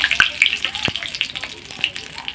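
Whole cumin seeds and bay leaves crackle in hot oil, a close run of sharp pops and spits over a light sizzle during cooking for spicy chicken.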